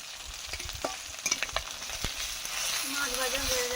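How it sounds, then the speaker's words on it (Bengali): Fish frying in hot oil, a soft continuous sizzle with scattered pops and clinks of a utensil stirring, fairly quiet, with a thin tonal whine rising near the end. "মাছ ভাজা হয়ে গেছে"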